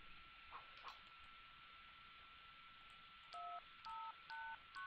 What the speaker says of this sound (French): Ce digicode contrôle l'accès au laboratoire d'analyse.